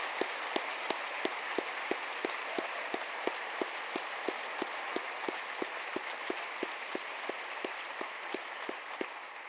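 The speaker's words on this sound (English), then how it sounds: "Let's give them a hearty round of applause." Sparse, steady clapping from an audience honoring Special Olympics athletes at a speaking event, a few dozen distinct hand claps spread evenly across the moment at moderate distance, with no voices over it.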